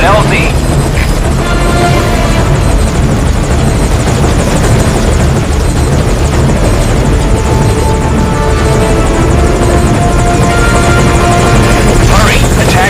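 Attack helicopter in the Metal Gear Solid V: Ground Zeroes video game, its rotor a loud, steady close thrum that holds for the whole stretch, with game radio chatter laid over it.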